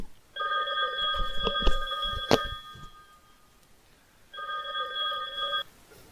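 A telephone rings with a bright electronic ring, two bursts separated by a pause, with a few knocks in the first burst.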